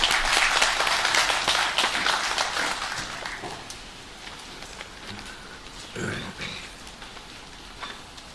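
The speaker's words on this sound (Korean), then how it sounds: "박수를 맞이해 주십시오" An audience at a Korean arts welfare foundation briefing for 2015 programs applauds to welcome a speaker: dense clapping starts loud and fades over several seconds, then gives way to quiet room noise and faint sounds.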